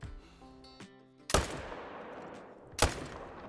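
Two sharp rifle shots ring out about a second and a half apart, each trailing off in a long echoing decay, while hunting a mule deer herd in theHunter Call of the Wild; faint musical tones come before the first shot.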